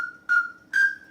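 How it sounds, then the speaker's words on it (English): A thin, high pintail duck whistle call sounding in two quick bursts over a steady lingering tone, close and clear with no talking. "And that's a Pintail call."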